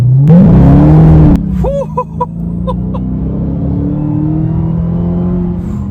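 A Dodge Charger Hellcat Widebody engine roars loudly as it accelerates, the pitch climbing for about a second before settling into a steady, deep rumble.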